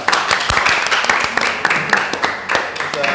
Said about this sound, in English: I think they deserve a clap for that